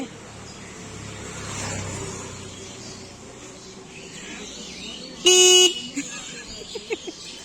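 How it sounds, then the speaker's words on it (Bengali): A vehicle horn gives one short, loud honk partway through, standing out against a quiet outdoor background with faint traffic and murmuring voices. "হর্নটা বাজিয়ে যাচ্ছে"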